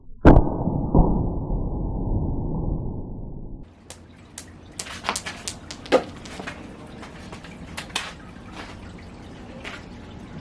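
An Umarex T4E HDS68 16-joule CO2-powered double-barrel less-lethal shotgun fires its right barrel with one sharp, loud pop, followed by a few seconds of hissing rush and then scattered light clicks and taps.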